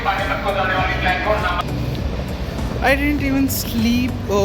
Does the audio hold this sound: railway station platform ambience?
yes